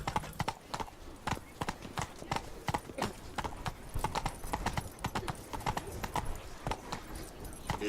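Roach, Geralt's horse in The Witcher 3, trots with steady clip-clopping hooves close by over a low ambient bed, a voice briefly speaking partway through.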